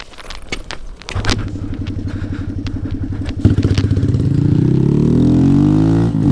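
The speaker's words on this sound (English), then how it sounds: "I just want to apologize in advance for this obnoxious exhaust that this thing has on it." The loud exhaust of a Grom motorcycle rumbles at idle, then revs up and holds a rising, raspy roar, close by.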